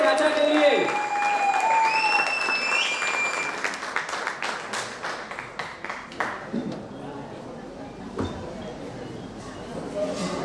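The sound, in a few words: applause at a sangeet night stage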